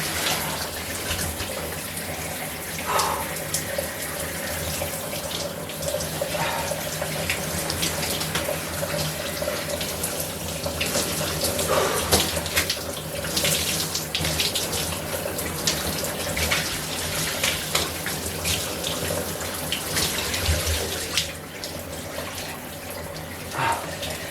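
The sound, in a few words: hot water running from a shower or tap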